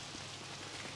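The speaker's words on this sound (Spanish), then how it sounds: "fijaos, calidad de lluvia, ¿eh? Calidad de lluvia, amigos." Rain in Super Mario Odyssey, a dense, steady hiss of falling drops pattering on surfaces, uniform and close, with no voices over it.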